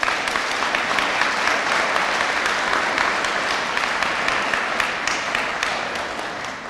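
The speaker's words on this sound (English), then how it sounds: "Would you please thank them with a round of applause?" A crowd at a high school graduation ceremony gives a round of applause, continuous dense clapping filling the space, tapering off slightly at the end.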